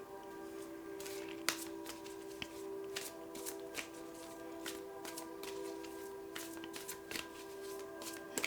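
Soft, close riffling and flicking of green witch oracle cards being shuffled and drawn, steady papery swishes with small sharp snaps, quiet and alone against faint background hum.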